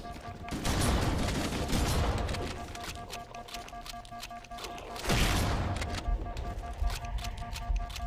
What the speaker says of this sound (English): Guessing those are sentinels that they're shooting at.